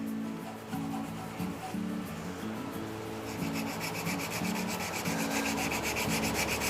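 A handle is hand-sanded through successive grits, a close, steady rasping rub in repeated back-and-forth strokes, faint and continuous with no talk.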